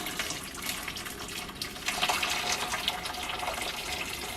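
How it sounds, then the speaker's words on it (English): Boiled water poured from a kettle over potatoes in a cooking pot, a steady continuous splashing and gurgling stream that swells slightly midway and stays close and fairly loud throughout. "we'll take the boiled water, and I'll try and get my pouring technique down"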